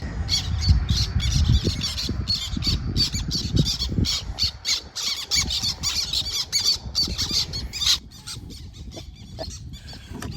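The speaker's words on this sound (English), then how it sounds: "Black terns, not happy." Black terns near their nests at a Minnesota lake call harshly in alarm, a dense overlapping chorus of sharp squawks and chattering cries, close and loud, over faint background rumble.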